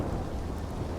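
A loud thunderstorm in the video game Red Dead (RedM) rumbles as a steady, dense wash of rain and low thunder, filling the whole second without any break.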